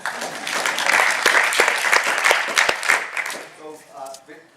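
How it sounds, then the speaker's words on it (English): An audience at a big data and entrepreneurship event applauds in a dense, loud burst of clapping for a few seconds, tapering off at the end as a voice starts speaking. "So one round of applause for all the audience."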